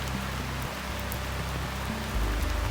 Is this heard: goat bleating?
no